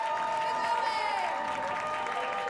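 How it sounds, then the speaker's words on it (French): A bar crowd applauds steadily, with a sustained tonal voice or sound riding over the clapping and faint cheering mixed in. "Et on applaudit bien fort Ronia."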